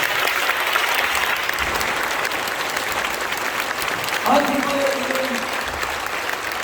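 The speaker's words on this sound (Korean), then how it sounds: "우리 후손들을 위해서 박수 한번 해주시기 바랍니다" Sustained applause from an audience at a church prayer gathering honoring Korean War veterans, steady and dense throughout, with a short voice briefly rising near the end.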